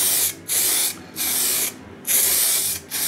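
Aerosol spray paint can applying glossy coats to a rifle stock: three long hissing bursts of spray, close and loud, separated by short pauses, with no talking.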